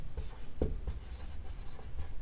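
A pen scratches out a handwritten math definition on paper, soft rapid strokes and taps close up, quiet and without talk.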